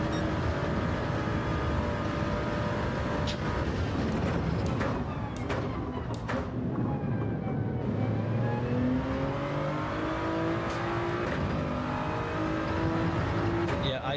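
Toyota Supra engine in the Gran Turismo racing game, a continuous revving drone with rising and falling pitch sweeps as the car accelerates and shifts, steady and loud throughout, with people talking over it.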